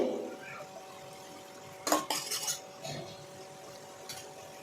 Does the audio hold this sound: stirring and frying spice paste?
yes